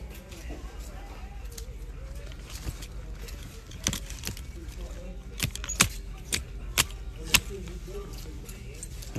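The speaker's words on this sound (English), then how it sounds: "that therapeutic sound of the hangers clicking" Metal clothes hangers click and clack along a thrift store rack, sharp close ticks coming in irregular bursts, several louder snaps near the end, over a low background murmur.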